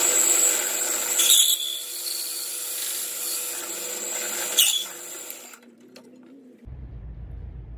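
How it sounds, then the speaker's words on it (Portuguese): A power tool cuts around the outside of a wheel during spoked-wheel making, a steady loud whine with two brief sharper bursts, then it cuts off and a low hum remains. "Aqui o próximo passo agora é fazer o corte aqui por fora da roda."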